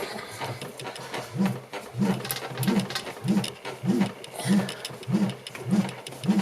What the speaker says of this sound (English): you see these pulses I'm making because I'm spinning the motor by hand